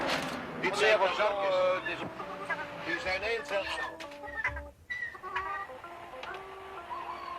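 Chickens cluck and squawk repeatedly at a livestock fair. Someone narrates throughout, and the clucking continues faintly after a short pause.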